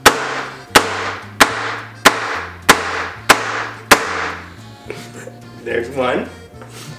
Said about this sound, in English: So first we're going to cut the onions this way.